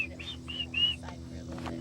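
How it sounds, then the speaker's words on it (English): Birds chirp in short, bright bursts during the 2017 solar eclipse, heard from a boat outside Nashville, Tennessee, faint and fairly near over a steady low hum, with people talking now and then. "Listen to the birds though, you guys."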